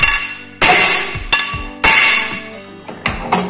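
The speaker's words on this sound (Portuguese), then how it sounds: "Eu vou usar este martelo para não fazer marcação aqui nas laterais da cambota." A metal hammer strikes a motorcycle crankshaft mounted on a lathe during alignment, giving four loud ringing metallic blows that each decay slowly, followed by a few lighter taps, with no talking.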